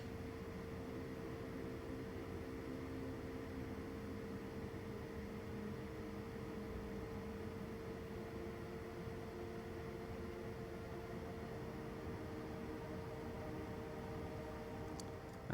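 A sustained, steady synth pad tone with reverb, delay and timbre turned all the way up hums evenly throughout, a soft held chord with a washy, spacious tail and no rhythm or breaks.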